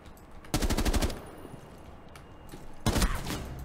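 Two bursts of rapid automatic gunfire from a video game, the first about half a second long and the second shorter, each loud and close with a quiet pause between them.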